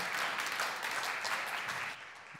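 An audience at a startup demo day claps for a team's pitch, a dense, fairly distant wash of applause that holds steady and then thins toward the end.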